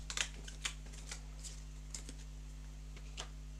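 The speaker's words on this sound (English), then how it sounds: "I'm going to just shuffle these up a bit better" Playing cards shuffled during a tabletop card game playtest, a series of quick riffling flicks and light taps spaced irregularly over a steady electrical hum, close and fairly quiet, no talking.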